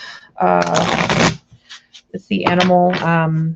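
Animal Totem tarot cards are shuffled in two quick riffling bursts, close and crisp, separated by a short pause with a few soft taps.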